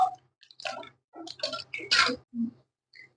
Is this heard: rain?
no